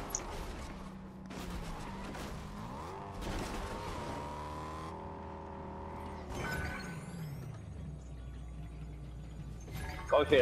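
A car is driven in the video game Fortnite. The engine tone rises and falls as it revs, shifts and accelerates, with sliding pitch sweeps through the ride and a sharp burst at the end.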